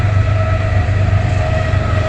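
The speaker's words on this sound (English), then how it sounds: "Sorry about the train, guys." Train rolling past a cemetery with a steady, loud rumble and a sustained tonal hum throughout, dominating everything else.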